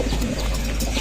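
Racing pigeons in a loft give soft, throaty coos close by, against a steady background hum.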